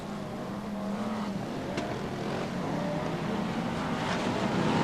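BriSCA Formula 1 stock cars racing at Long Eaton in 1993, engines droning steadily at a distance as the pack circles the track, a continuous rumbling roar with no talk.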